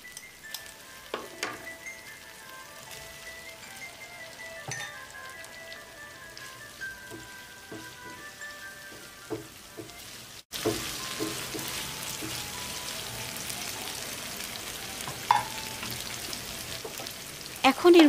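Fried paneer pieces dropped into masala already sizzling in released oil, a steady bright crackle and hiss close by, with occasional clinks and stirring scrapes and a louder, denser sizzle in the second half.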